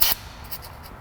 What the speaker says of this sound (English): I just have some spray white lithium grease.